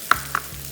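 Spices tempering for a tadka in a little oil while preparing paya shorba, two short bursts of sizzle and stirring close by, with no talking.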